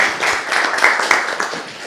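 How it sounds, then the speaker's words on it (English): Applause from a school audience of teachers and students, a dense patter of many hands clapping steadily at close range for a couple of seconds with no talk over it. "let's give ourselves a round of applause."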